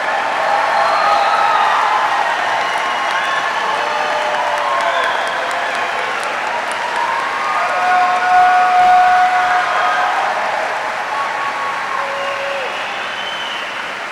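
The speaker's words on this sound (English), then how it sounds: "join me in a round of applause for the Army's newest aviation war fighters" A large audience at a U.S. Army flight school graduation ceremony applauds steadily for about fourteen seconds. The clapping is dense and continuous, and faint tones sound under it.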